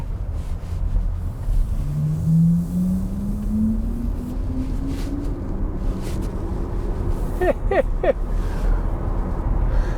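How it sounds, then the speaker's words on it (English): Volkswagen ID.7 Tourer sport driving sound: a synthetic tone rising slowly and steadily in pitch over broad road and wind noise, followed by a few brief sharp clicks near the end. "That's the sport sound. That was the sound when you drive too fast."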